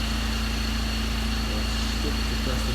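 The engine of a Ford Transit van with a MAP sensor fault runs with a steady, loud, low drone and a constant hum throughout, with no clear rise in pitch.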